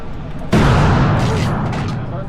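A single loud gunshot at an outdoor gun range, a sharp close blast that cuts in abruptly and leaves a long ringing, slowly fading tail.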